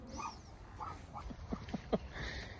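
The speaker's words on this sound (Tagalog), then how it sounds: "Ba't tumatahol yan?" A dog gives several short, sharp yips and barks in quick succession, fairly close, with faint whimpering between them and no talk over it.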